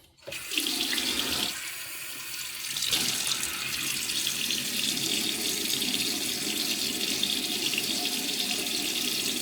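A bathroom tap gushes steadily into a sink while a face is wetted before a shave; a brief knock opens it, then the water runs alone, close and continuous, its flow shifting once.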